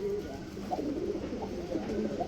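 Pigeons cooing in a pigeon market with new breeding pairs and chicks, including a large red running cock bird; low, repeated throaty coos over a steady murmur of nearby birds, with faint background voices.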